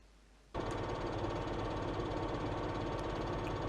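A tractor engine in Farming Simulator 17 starts abruptly after a short quiet moment, then settles into a steady, loud, close idle with a constant rumbling drone.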